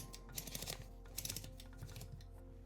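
Keys strike on an Oliver or Corona typewriter in quick clusters of sharp clacks, two bursts separated by a short pause over a quiet background hum.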